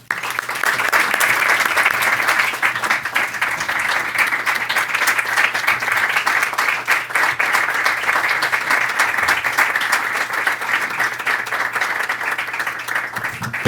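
An audience at a talk on democracy in the Middle East breaks into loud, sustained applause to welcome Reza Pahlavi, dense clapping that fills the room steadily from start to finish.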